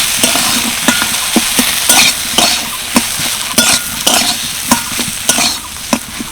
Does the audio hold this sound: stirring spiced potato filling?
yes